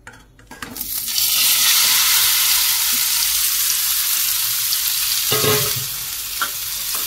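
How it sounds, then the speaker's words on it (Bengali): Indian gooseberries dropped into hot white oil in a wok burst into loud, continuous sizzling and frying, with faint stirring and pan clatter near the end. "এবার কড়াতে দিয়ে দিয়েছি সাদা তেল, তেলটা গরম হয়ে গেছে, এবার আমলকিগুলো দিয়ে দেবো।"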